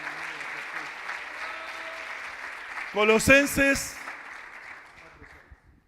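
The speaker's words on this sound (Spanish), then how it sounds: "dele fuerte un aplauso al Rey" A church congregation claps in a brief burst after a preacher's call to applaud, with loud clapping peaking for about a second between stretches of his amplified speech.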